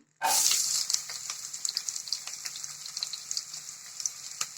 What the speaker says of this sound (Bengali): এখন আমি পেঁয়াজটা একটু ভেজে নেব।